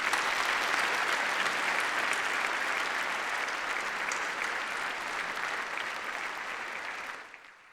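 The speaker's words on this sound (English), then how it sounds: "join me in applause." A large audience applauds together at a university graduation ceremony, a dense, steady roar of clapping that stays strong throughout before tapering off abruptly at the end.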